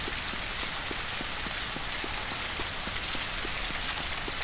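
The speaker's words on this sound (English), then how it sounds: "And of course the rain is incredibly loud, because why wouldn't it be?" Rain pours loudly and steadily in the open-world survival game Surroundead, a dense, continuous hiss of drops striking surfaces with faint regular ticks underneath, heard alone without speech.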